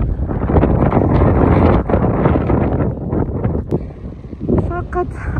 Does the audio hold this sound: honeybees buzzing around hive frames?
no